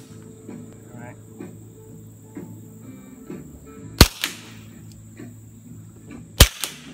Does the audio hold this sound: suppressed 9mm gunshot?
yes